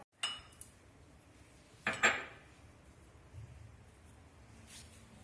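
A spoon clinks against a bowl while thickened mango kulfi mixture is stirred, a few faint, scattered metallic taps and scrapes in a quiet kitchen.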